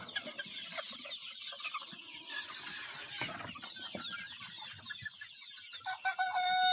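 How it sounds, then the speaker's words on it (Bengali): Free-range Sonali chickens on a crowded farm feed while clucking fills the scene with steady nearby calls, and a sharper crow or squawk rises near the end. "তো মুরগিগুলো বিন্দাস খাওয়া দাওয়া করতেছে"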